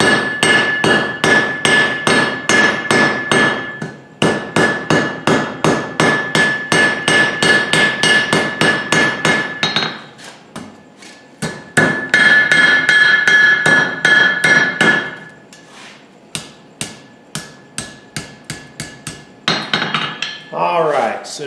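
A power hammer pounds a hot metal hook to square and flatten it, driving out rapid bursts of loud, evenly spaced ringing blows with brief pauses between runs.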